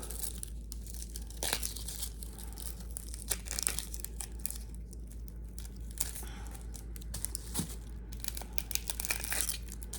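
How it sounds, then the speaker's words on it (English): An onion has its outer layer peeled back by hand, giving dry, papery crinkling and tearing in scattered close bursts, with a few sharper rips over a low steady hum. "I'm gonna peel 1 layer back, just like so."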